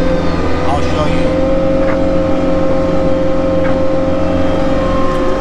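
Bobcat Toolcat 5600 utility vehicle engine held at full throttle, a steady loud drone with constant harmonic hum throughout, little variation in pitch.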